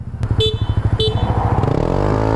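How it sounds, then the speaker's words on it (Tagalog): Two short horn toots from a Yamaha Aerox 155 or Honda Click 160 scooter, sounding over a loud, rhythmically pulsing engine that revs up and smooths out toward the end. "ikaw bumusina"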